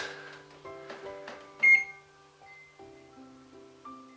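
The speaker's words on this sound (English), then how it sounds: "Punked by the microwave." A series of electronic beeps and tones from an appliance, several short keypad bleeps followed by sustained pitched tones, close and clear.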